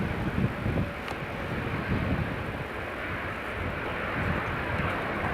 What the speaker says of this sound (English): Pegasus just taxi along the runway 24 now.